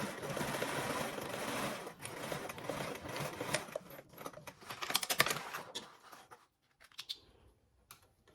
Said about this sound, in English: Again, sewing with the 3/8 seam allowance.